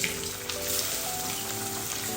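Okra frying in hot oil tempered with mustard seeds, asafoetida and turmeric, giving a steady, close sizzle that holds at an even level throughout with a few small pops, no voices.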